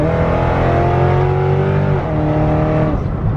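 A Kawasaki KLX351 motorcycle engine runs loudly and steadily close by, its rough, buzzing note holding and dipping slightly in pitch, with no talking.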